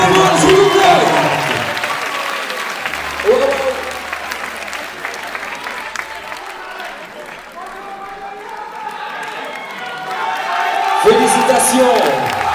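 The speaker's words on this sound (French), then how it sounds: "On applaudit Baba, s'il vous plaît." Audience applause for Baba Maal at the Sunu Talent Show final, a loud crowd clapping and cheering that dips in the middle while a voice talks over it, then swells again near the end.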